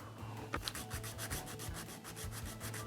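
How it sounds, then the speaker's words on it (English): Plastic pieces for a scratch-built model being sanded flat by hand, a quiet, steady back-and-forth rasp in an even rhythm of about four to five strokes a second, close and alone. "Just kind of sand it flat."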